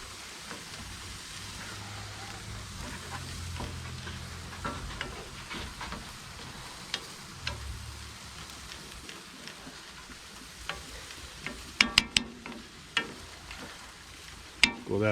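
Pork chops sizzle steadily in a cast iron skillet, a continuous hiss and crackle running throughout, with a few sharper pops and utensil clicks toward the end.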